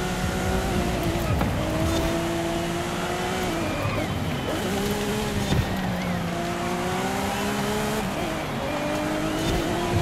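Racing car engine in Forza Horizon 5, a steady loud roar rising and falling through gear changes as the car is driven hard through a corner, with brief tyre noise.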